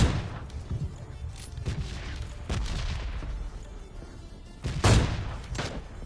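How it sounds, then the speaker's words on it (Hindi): Gunfire in the PUBG Lite battle royale game comes in several sharp bursts and single shots, some loud and near, others softer, spread irregularly across a few seconds. "सामने से कुछ गन साउंड वगैरह भी आ रहे थे बंदों के"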